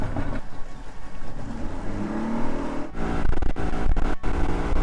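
A four-stroke outboard boat engine runs steadily with a low rumbling drone, then rises in pitch and roughens toward the end, close and fairly loud.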